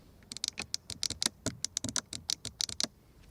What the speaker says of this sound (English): Nice clicking sound for the window levers.